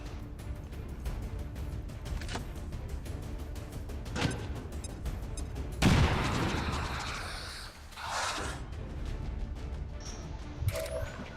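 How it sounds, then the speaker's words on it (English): Grenade blast and gunfire in the turn-based tactics game XCOM 2: War of the Chosen, a broad booming burst with a long rumbling tail among scattered sharp impacts over steady game ambience. "let's use a grenade and bust his cover and do some damage"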